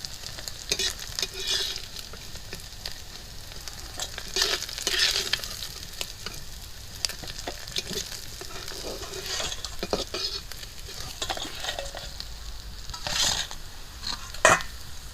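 Lata fish (snakehead) fries in oil in a pan, with a loud continuous crackling sizzle broken by repeated scraping stirs and spatula clatter, close up and with no talk.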